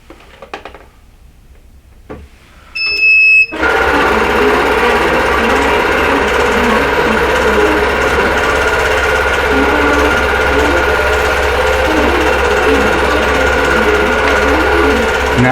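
A computerized longarm quilting machine starts up after a few brief beeps and clicks, then runs in a loud, steady mechanical whir of stitching as its head moves, continuous throughout, with no speech.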